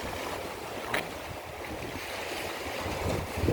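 Sea waves washing against rocks at Eulwangni beach, a steady distant surf rush with a couple of slightly louder breaking swells, no voices.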